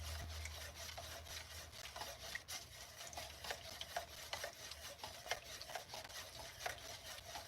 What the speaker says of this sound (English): I should probably mix that before I start using it